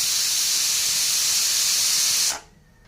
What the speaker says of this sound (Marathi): आता आपल्याला कुकरचं झाकण लावायचं आहे आणि याच्या 2 शिट्ट्या काढून घ्यायच्या आहे